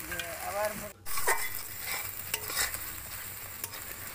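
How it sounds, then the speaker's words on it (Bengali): Spice paste with pointed gourd and prawns being stirred and sautéed in hot oil, with a steady close sizzle under scraping spoon strokes and no talking. "এই দেখুন ভালো করে কষাচ্ছি আমি, যাতে মশলা থেকে তেল ছেড়ে ছেড়ে আসে"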